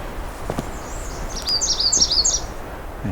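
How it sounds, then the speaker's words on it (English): American redstarts sing in June woodland, a run of thin, high, buzzy phrases repeating over a second or so, moderately near against a quiet background with a few soft knocks. "It's amazing the sheer numbers of red start in here."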